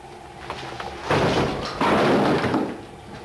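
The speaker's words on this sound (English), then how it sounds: "we're going to use the dynamic hammer" Two heavy, loud impacts from a dynamic hammer strike a door in quick succession, each a booming crash that lingers briefly, with no voices.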